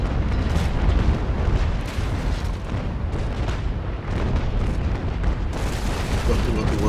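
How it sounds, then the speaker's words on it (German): Ship cannons boom in a naval battle in Naval Action, a dense, continuous rumble of heavy blasts and crackling bursts at close range, with people talking over the barrage. "dann schieße ich mal auf ihn"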